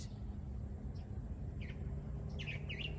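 Bird chirps ring out faintly in short, scattered calls over steady low background hum, growing a little busier toward the end.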